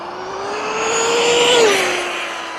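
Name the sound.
Limitless RC car speeding toward 100 mph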